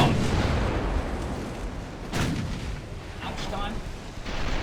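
Heavy naval gunfire from 9-inch cruiser guns during a close cruiser duel in the warship game Ultimate Admiral Dreadnoughts, with booming shots over a constant rumbling battle din, a sharp blast near the middle, and someone speaking briefly.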